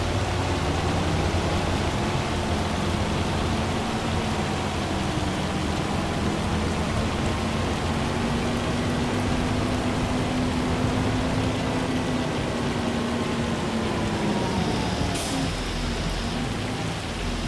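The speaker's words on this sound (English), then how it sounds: "It's now changed from rain to hail, dude." Hail falling just after a switch from rain, a dense, steady hiss of hard pellets striking surfaces, loud and unbroken throughout with a faint low drone beneath.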